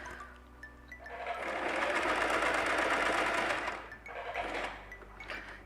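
A sewing machine runs a straight stitch, a fast, even mechanical chatter rising after a second, holding steady for about three seconds, then stopping briefly before a few shorter bursts close by.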